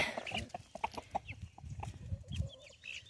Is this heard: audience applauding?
no